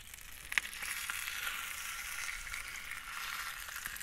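Paella ingredients browning in a pan over a barbecue give off a steady, soft broadband sizzle that holds at an even level throughout, with a faint click near the start.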